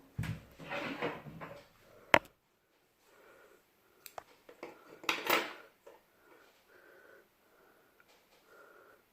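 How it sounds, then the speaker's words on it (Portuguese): Scissors snip through crochet yarn while a blue crochet bikini is being finished, giving a few sharp, close clicks and rustles separated by quiet pauses, with no talking. "Vou cortar o fio."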